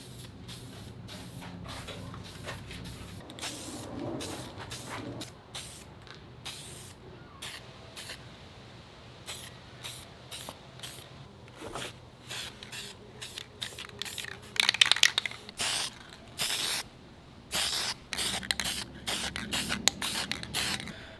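Spray primer meant to adhere to plastic, applied in a rust repair on a truck's rocker panels and cab corners: repeated short hissing bursts from a spray can, some longer, close by, with gaps of quiet between.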